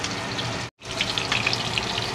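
Firm boxed tofu pan-fries in hot oil with a continuous close sizzle and crackle, briefly cut off by a short silent gap before the sizzling resumes.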